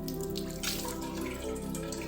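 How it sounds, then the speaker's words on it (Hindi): Leftover water drips through a cloth filter after the tap is shut off, giving soft, scattered drops over a steady background hum. "इसमें हमने नल बंद कर दिया है, तो जो बचा हुआ पानी है वो आया है"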